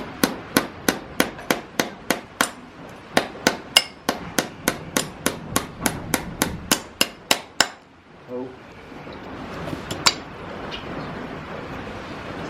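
Steady, ringing hammer blows from a farrier driving nails into a horseshoe on a horse's hoof, about two dozen sharp strikes in a quick, even rhythm, close and loud, ending in a short pause and then low shuffling.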